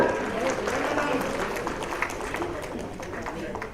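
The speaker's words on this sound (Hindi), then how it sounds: "तालियां जोरदार हो।" Audience applause at a school award ceremony in Ranchi honoring top exam students: a moderate, steady patter of clapping from a crowd, slightly distant, with some murmur mixed in.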